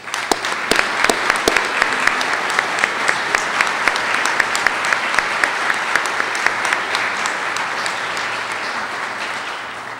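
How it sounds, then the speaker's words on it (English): A room of people at a public forum applauds, with steady, sustained clapping and a few sharp, distinct claps standing out near the front, continuing at an even level throughout. "let's give her a hand right now"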